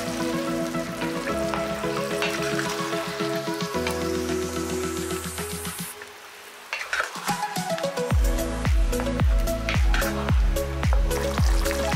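Repeated scraping and clinking as a spoon stirs a thick chickpea chicken curry with tomato puree and curd in a pot, with sizzling underneath and faint music throughout.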